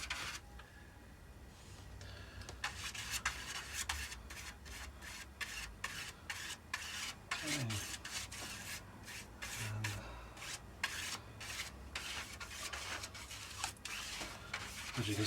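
Dope being brushed onto the balsa surface of a 1/4 scale Balsa USA Sopwith Pup model aircraft, a soft steady rubbing with quick repeated strokes, close and quiet, with no talking.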